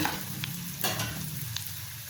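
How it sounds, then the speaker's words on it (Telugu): Oil sizzles steadily as green chillies and ginger fry in a pan, a close, continuous crackling hiss with a few sharper pops. "పచ్చిమిరపకాయలు వేగుతున్నాయి కదండి"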